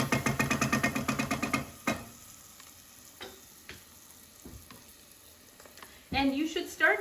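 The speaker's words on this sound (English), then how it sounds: "So that tells me that these onions are cooking down nicely and at a good temperature" Onions frying in avocado oil inside a pressure cooker, with a loud pulsing sizzle at first, then quieter scattered crackles and pops, before the frying surges loudly again at the close.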